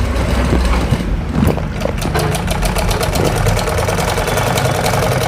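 A sewing machine stitches a fabric seam, its needle running in a rapid, steady mechanical chatter, loud and close, with a brief slowdown before settling into an even rhythm.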